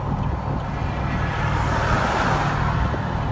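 A pickup truck in tow haul mode pulls a Corvette C4 on a hot day, giving a steady low engine drone and road rumble with wind noise throughout, no talk heard.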